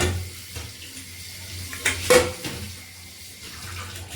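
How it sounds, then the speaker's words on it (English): Water from a kitchen tap splashes over a plate in a sink, a soft steady rush with a louder burst of splashing midway, close and with no talking. "I'm rinsing the plate with water"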